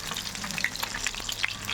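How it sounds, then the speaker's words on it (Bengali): Egg-coated soya chunks frying in hot oil crackle and sizzle continuously and close by, with brief pops and spits throughout and no voices. "দেখো বন্ধুরা কী সুন্দর লাল লাল করে ভাজা হয়ে গেছে"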